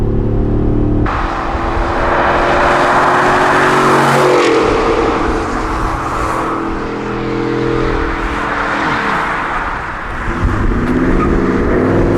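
A Ford F150 fitted with a Borla ATAK exhaust accelerates hard at highway speed, its loud engine roar rising and shifting through gears over rushing road and wind noise, heard continuously from nearby.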